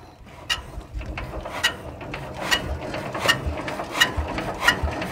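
A machine engine is turned over by hand crank, giving a quick series of ratcheting mechanical clicks and knocks that grows slightly louder over the few seconds, fairly close, with no voices.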